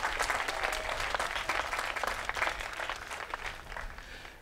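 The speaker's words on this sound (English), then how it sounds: "let's just give Joy a round of applause" A round of applause for Joy at a City of Ocoee MLK celebration, steady dense clapping from an audience that carries on for several seconds and slowly thins toward the end.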